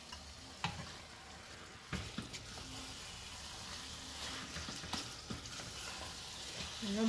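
A quarter kilo of mutton sautés with masala and thick yogurt in a pan for pressure-cooker biryani, a faint, low sizzle with a few scraping and knocking stir sounds, no speech.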